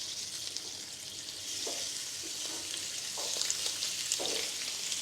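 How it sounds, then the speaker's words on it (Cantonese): A black pork loin chop fries in a red-hot wok, giving a steady close sizzle with faint scrapes and light clinks of the turner. No one speaks. "換個面再煎。"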